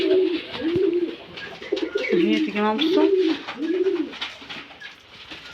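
Pigeons or doves in a home poultry coop coo in repeated, rolling phrases close by, while someone talks over them.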